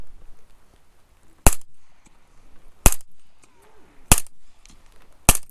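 Four sharp, loud suppressed 300 Blackout rifle shots at an outdoor range, spaced roughly a second or more apart, each a hard crack followed by a short ringing tail, with quiet ambient noise between shots.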